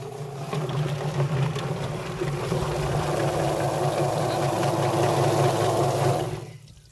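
A chicken plucker runs steadily with a wet, churning mechanical whir as its bottom plate spins a large bird, loud and close. The machine winds down near the end.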